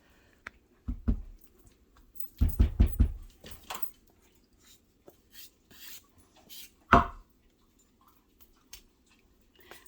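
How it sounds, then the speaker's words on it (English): A spatula scrapes spilled ham and noodle casserole off a kitchen floor: a few close, uneven scrapes and soft knocks in short bursts, separated by quieter gaps. "I'm going to get a spatula and I'm going to scoop this out"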